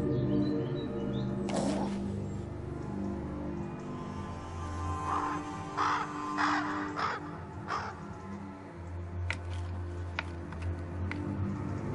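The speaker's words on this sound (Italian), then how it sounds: "L'uccello chiama il compagno." A bird calling its mate in the Romanian countryside gives a series of harsh, cawing calls at moderate distance, spaced irregularly over a steady low background murmur.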